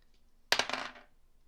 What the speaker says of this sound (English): And finally, number 6, the last dice.